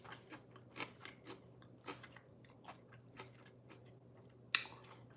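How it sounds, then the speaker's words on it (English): Crunchy green beans are bitten and chewed close to the mic in a quiet room, a run of sharp crunches at an irregular rhythm, with one loud snap near the end. "these green beans are really crunchy"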